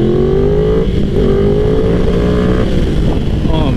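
A Yamaha R1 Anniversary Edition motorcycle is ridden on the road, its engine droning loud and close under heavy wind rush, with the pitch gently rising and falling as the throttle changes.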